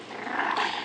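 Bully puppies growl while play-fighting, a short, continuous rumbling snarl from close by.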